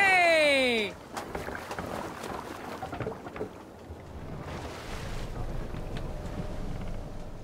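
A Viking longship glides across open water in Assassin's Creed Valhalla, a steady broadband wash of waves and wind rushing past after a brief tonal cue, with voices talking over the sailing.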